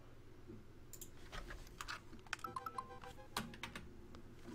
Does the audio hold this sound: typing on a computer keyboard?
yes